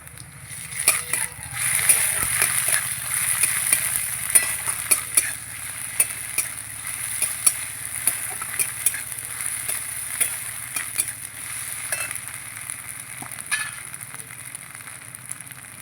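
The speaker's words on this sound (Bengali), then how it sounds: "এগুলোকে একটু কিছুক্ষণ ভাজবো আদা রসুন দিয়ে ভালো করে একটু ভেজে নিয়েছি" Chicken fries in a pan with ginger-garlic paste and ground green chili, giving a steady crackling sizzle with scraping stirring strokes throughout. No one speaks.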